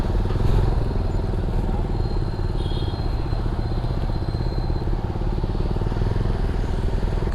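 A Benelli TRK 251 motorcycle engine drones steadily while riding, with a continuous low throbbing rumble, fairly close and even throughout, mixed with wind noise.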